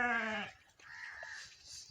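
A goat kept for Qurbani sacrifice on a home farm gives one loud, close bleat with a strong harmonic tone lasting about half a second. A quieter, rougher bleat or animal call follows over faint farmyard background noise.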